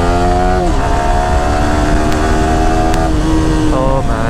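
A modified Yamaha R15 V4 motorcycle with quick-shifter gear changes, a loud close engine note rising and dropping in pitch as gears shift, with talk running over it.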